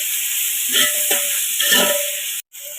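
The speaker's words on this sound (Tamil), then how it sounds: "வெங்காயம் பார்த்திங்கன்னா நல்லா பொன்னிறமாக ஆகட்டும், அந்த அளவுக்கு நம்ம வதக்கி எடுத்துக்கலாம்." Sliced onions sauté in a pan for veg biryani with a steady bright sizzle, broken by a few stirring scrapes; close and continuous, with a brief cut near the end.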